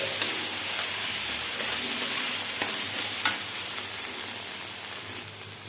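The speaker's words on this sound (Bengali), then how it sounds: "এরপর আমি সব মশলা দিয়ে দিলাম। ভালো করে কষিয়ে নিচ্ছি।" Spices for ghugni sautéing in a hot pan, a steady close sizzle and hiss with occasional scraping strokes of a spatula stirring.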